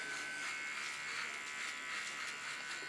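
A small electric hair clipper buzzes steadily while trimming the hairline during a haircut, close and even with slight fluctuations as it moves, and no talking.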